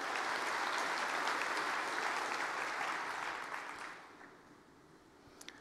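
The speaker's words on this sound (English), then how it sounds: "A round of applause for their support for that." Audience at a school association's annual conference general session applauds a sponsor, a broad, even wash of many hands that fades out near the end, leaving a quiet hall with a couple of small knocks.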